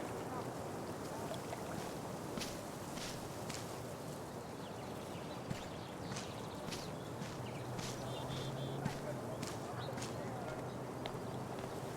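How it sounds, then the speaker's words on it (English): Kayak paddling in the video game Life is Strange: True Colors, with repeated soft water splashes from the paddle strokes over a steady wash of ambient wind and water, along with background music. "If not for the paddling, kayaking would be super relaxing."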